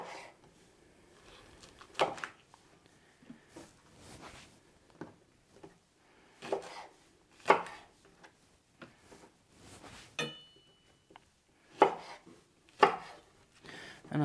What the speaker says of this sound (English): I'm gonna get these green chilies and I'll just cut them in half so they fit in the food processor